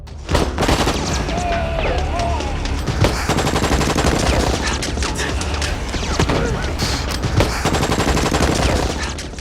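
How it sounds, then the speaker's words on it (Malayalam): Heavy, continuous gunfire from a movie shootout rattles throughout, rapid bursts layered with booms and crashes, loud and dense like a full-blown shootout. "തൊട്ടു പിന്നാലെ അവിടെ ശക്തമായ ഷൂട്ടൌട്ട് ആരംഭിക്കുകയാണ്."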